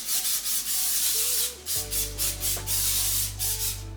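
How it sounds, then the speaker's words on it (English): Cooking spray hisses in several short, close bursts onto a bundt pan greased for monkey bread, with a low steady hum running underneath. "I wanna spray this really,"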